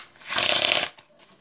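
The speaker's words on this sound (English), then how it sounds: "we'll give it another cut, another shuffle." Playing cards are riffle-shuffled up close during a card trick, a single dense ripping flutter lasting about half a second, followed by a few faint soft taps as the deck settles.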